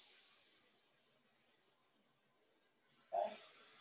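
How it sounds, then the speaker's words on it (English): Turkey burger sizzling in a hot pan sprayed with oil, a steady close hiss that fades after a second or so, then a short sharp burst of sizzle near the end. "you hear the sizzle?"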